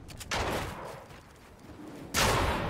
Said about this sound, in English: I'm gonna shoot my way out